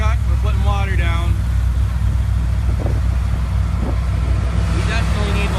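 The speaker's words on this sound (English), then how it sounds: "Here's the water truck. We're putting water down." A water truck rolls along a sand drag track, its low engine rumble continuous under a race announcer's talk over the public address.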